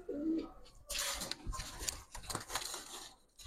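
Pigeons of racer, Giribaz and colouring breeds coo softly and close by in a short burst, with rustling and scratchy handling noises over them and on to the end.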